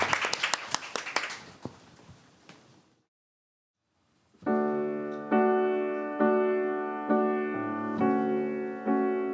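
An audience at a book concert claps briskly for a singer for about three seconds before the applause dies into silence, then gentle sustained instrumental chords begin and repeat in steady strokes.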